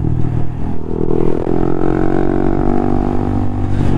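Steady, loud exhaust drone from a 2019 Honda Monkey 125 motorcycle while riding, a continuous low rumble with rising engine pitch and road and wind noise, no talking.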